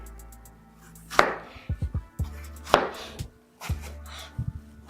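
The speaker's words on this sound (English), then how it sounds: "you'll begin by cutting 4 strawberries into halves" A knife halving four strawberries on a cutting board while making a Strawberry Bourbon Smash cocktail, with a few distinct close chops and short knocks spaced across a quiet background and no talking.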